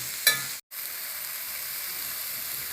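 Green chilies and garlic sautéing in a pan for a curry give off a constant, even sizzling hiss, with a brief tap near the start and a momentary dropout.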